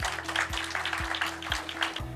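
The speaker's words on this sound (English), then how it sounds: "Give him a huge round of applause." An audience applauds to welcome an alumni guest at a business school chat, with continuous clapping heard over a rhythmic, pulsing background tone that repeats about every half second.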